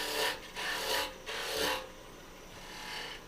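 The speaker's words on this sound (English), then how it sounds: "Get the lathe speed up. Get rid of some of this material." A wood lathe turns a wooden piece as a tool removes material, giving several close, loud rasping scrapes in bursts, with a softer rub trailing at the end.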